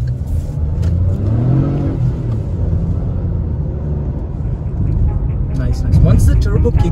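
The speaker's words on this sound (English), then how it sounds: "Once the turbo kicks in, there's a bit of wheel spin and stuff." A Geely Coolray SUV with a three-cylinder turbo engine accelerates hard with some wheel spin, its engine note rising and swelling from inside the cabin while someone talks over it.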